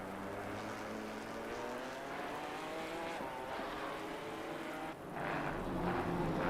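GT4 race cars, including a McLaren, pass through the chicane at Donington Park in a club race. Their engines form a steady, loud droning roar with rising and falling pitch, swelling slightly louder toward the end.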